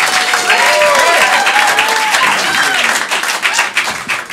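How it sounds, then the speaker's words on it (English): A comedy club audience at a stand-up show applauds a comedian, dense close clapping with scattered whoops that holds strong and then thins into fewer, more separate claps near the end. "Keep that clapping going for Duncan, you guys, and Brando, and yourselves"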